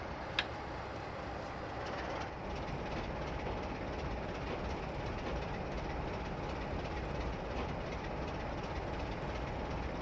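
A freight train pulls out of a yard on the West Coast Main Line near Polmadie in a train simulator game, a steady continuous rumble with a faint rhythmic clatter, close and even throughout with no talk.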